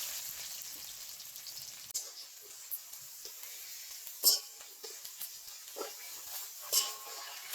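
Onion sizzling and frying in hot oil in a home kitchen for a potato and red lentil dal, a steady soft hiss with small crackles and pops, stirring clinks, no voices.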